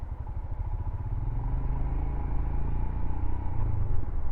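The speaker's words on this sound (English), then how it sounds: "I love that agricultural clunk on this bike." Royal Enfield Himalayan 411 motorcycle engine while riding, a steady low thumping rumble with a mechanical clunky clatter, continuous and fairly close.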